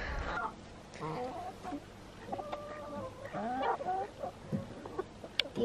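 Backyard homestead chickens cluck and chatter in short, varied calls, with a brief squawk near the end, over low outdoor background noise and faint murmurs.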